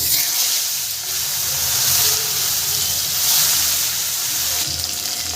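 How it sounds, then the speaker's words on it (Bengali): Fish frying in hot mustard oil in a wok gives a steady, loud broadband hiss and sizzle that runs the whole time with slight swells, and no one speaks. "তেল গরম হয়ে গেছে এবার মাছগুলোকে আমি ভালো করে ভেজে নেব"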